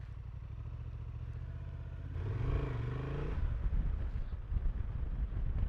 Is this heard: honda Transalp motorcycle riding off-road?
yes